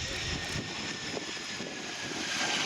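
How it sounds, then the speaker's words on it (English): A Lockheed Martin F-35B Lightning II jet of the US Marine Corps coming in to land at an airshow, a steady broadband engine roar that stays loud and close throughout. "into land the Lockheed Martin F-35B Lightning II"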